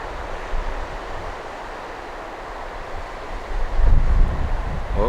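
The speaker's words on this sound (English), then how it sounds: "Oh, there's a big gust." Wind gusts buffet a microphone beside a river, the flowing water a steady wash underneath, with a stronger gust building and rumbling across the mic near the end.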